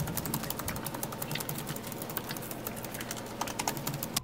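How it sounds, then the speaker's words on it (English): Fast, steady typing on the chiclet-style backlit keyboard of a 13-inch Apple MacBook Pro with Retina display, a dense close-up patter of light key clicks with no talking. "You have a chiclet style backlit keyboard,"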